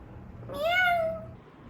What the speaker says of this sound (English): Oh, there's a cat.